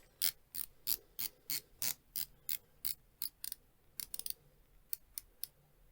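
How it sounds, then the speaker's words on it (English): A 120-click ceramic watch bezel insert on a Damascus steel Keaton Keris watch is turned in bursts, giving crisp, close ratcheting clicks in irregular clusters with short pauses between turns. "quickly talk about this bezel. So as I said, it's a ceramic insert and it's 120 click"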